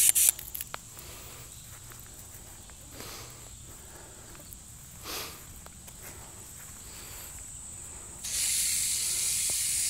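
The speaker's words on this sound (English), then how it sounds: "I got the spray head on it." A garden hose fitted with a spray head waters a lawn during a zoysia plug planting job, giving a soft, steady hiss that turns into a louder, brighter spray near the end.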